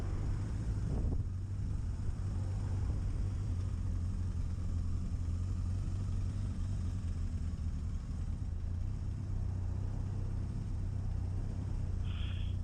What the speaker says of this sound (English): It's returning to idle a lot better than it did when I first took it out.